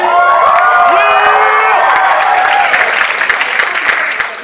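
Loud crowd cheering and clapping fills the space, with high whoops and shouts over dense applause that slowly begins to fade.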